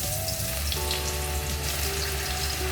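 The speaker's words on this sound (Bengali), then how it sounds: "কুমড়োটা ভেজে নেবো" Pumpkin pieces fry in oil in a wok, giving a steady, close sizzle that runs unbroken throughout with a faint tonal hum underneath.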